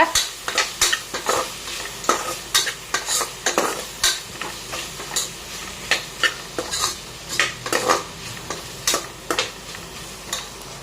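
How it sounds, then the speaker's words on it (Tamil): A spoon stirs biryani masala sizzling in a pan for paneer biryani. Rhythmic scraping strokes repeat over a soft, steady frying hiss, close and clear with no talking. "பிரியாணி மசாலாவும் சின்ன ஸ்பூனில் ஒரு ஸ்பூன் போட்டிருக்கேன் அதையும் நல்லா வதக்கிக்கோங்க"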